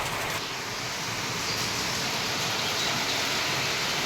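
Heavy, non-stop wind-driven rain pours down in a steady, dense hiss that fills the whole stretch without pause.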